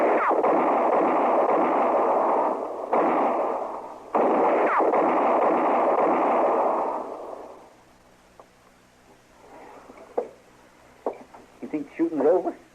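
Gunfire in an old-time radio western drama bursts in two loud, sustained volleys with a brief gap between them, then fades to quiet followed by a few scattered short sounds.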